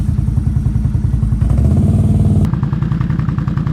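A Can-Am off-road vehicle stuck in mud, its engine running loud and steady with a rapid pulsing idle and a revving shift partway through, close by and alone.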